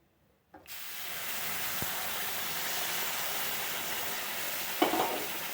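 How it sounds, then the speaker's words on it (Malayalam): Hot water hits a pan of roasted semolina and vermicelli for upma with a sudden loud hiss that settles into steady sizzling and steaming, close and continuous, ending with a brief clatter. "ഇനി നമുക്ക് ചൂടുവെള്ളം ഒഴിക്കാം."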